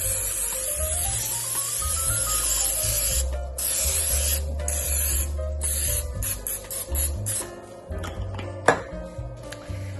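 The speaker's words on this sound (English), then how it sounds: "now I'm gonna spray my pan" A long hissing spray from an aerosol can of cooking spray onto a muffin pan, close up, followed by clinks and scrapes of the metal pan.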